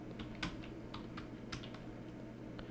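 Quiet tapping of keys on a keyboard while entering a last name on a voter card application form, with irregular keystrokes in short bursts over a low steady hum, and no talk.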